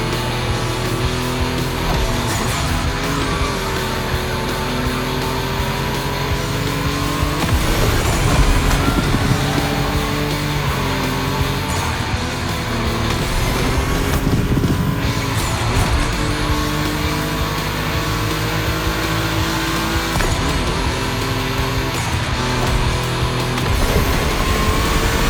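Volkswagen race cars roar around a track in the video game The Crew Motorfest, engines droning loudly and continuously with rising and falling revs and occasional tire squeal, with no talk.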